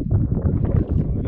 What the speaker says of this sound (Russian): Про ветер можно не говорить.